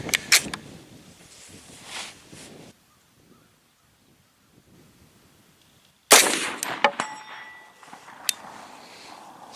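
A Remington Model 81 semi-automatic rifle in .300 Savage fires at steel targets outdoors, with a loud crack and metallic ring at the start, a quiet gap, then another sharp report with ringing steel and lingering echo.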